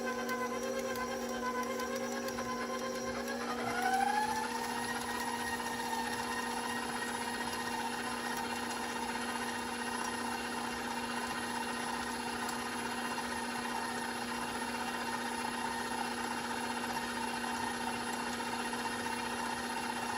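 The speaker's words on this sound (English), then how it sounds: "Now I can restart my mixer." Electric stand mixer beating whoopie pie batter with vanilla extract, a steady mechanical whir that spins up after a few seconds and then holds at an even, constant hum for the rest of the time, close by and uninterrupted.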